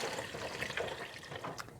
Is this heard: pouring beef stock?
yes